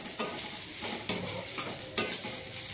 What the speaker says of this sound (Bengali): ডালটাকেও একটু ভালো করে ভেজে নেব।